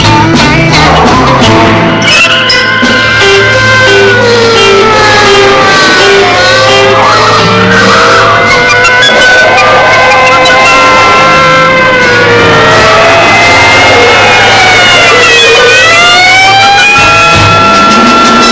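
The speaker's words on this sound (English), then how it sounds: "There are three police cars following us." Wailing sirens of several police cars in a chase scene from a 1966 film, loud rising and falling tones overlapping for the whole span with engine rumble beneath.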